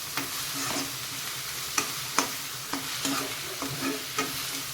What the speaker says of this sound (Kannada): ನೋಡಿ, ಇದು ಈಗ ಫ್ರೈ ಆಗಿದೆ.